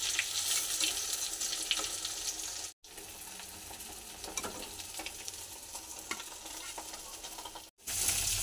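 Capsicum rings coated in egg frying in hot oil, a bright continuous sizzle with light clinks and spatters, broken by two brief silent gaps; no voices.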